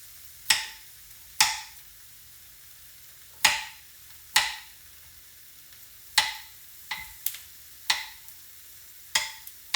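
Thinly cut garlic is stirred in a bowl, about ten sharp scraping clinks at uneven intervals, close and fairly faint, with quiet pauses between strokes.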